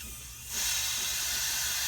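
Air pressure hisses out of a swimming pool pump lid, starting as a faint leak and then bursting into a steady, loud, close hiss that continues to the end.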